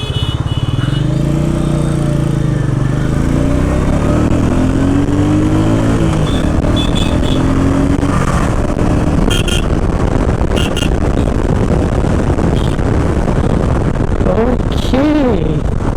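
A 2021 Royal Enfield Meteor 350 Supernova motorcycle, a 350cc bike, plays its exhaust note up close. It sounds loud and continuous, with revs rising and falling and a brief horn-like toot near the end.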